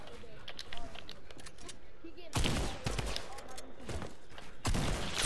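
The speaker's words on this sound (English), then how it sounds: "I hear gunshots." Gunfire in the Fortnite battle royale video game, several loud bursts of shots in quick clusters, with players talking over the game audio.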